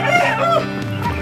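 Free-range village chickens cluck and crow close by, several overlapping bird calls in a brief, busy burst.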